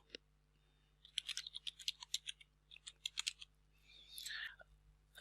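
Computer keyboard typing in short quick bursts of close, soft clicks while a domain name is entered, followed by a brief mouse-like rustle near the end. The room is otherwise quiet.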